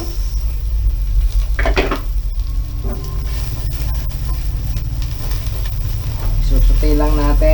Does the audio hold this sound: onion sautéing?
yes